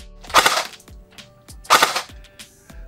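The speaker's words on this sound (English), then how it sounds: "I'm trying to do single shots here." An S&T BAR M1918A2 airsoft rifle with upgraded internals fires two separate single shots about a second and a half apart, each a sharp, loud snap with mechanical clatter, nearby and with no talking.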